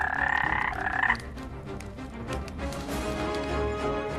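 Toads croak repeatedly as a fairy-tale sound effect, a loud, dense chorus of rasping calls at the start that drops to a quieter, continuous croaking bed, with no voices.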